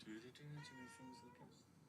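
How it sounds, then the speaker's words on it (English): A cat meows a few times in a row, its rising and falling cries close and fairly clear over a quiet room. "okay, kitty cat"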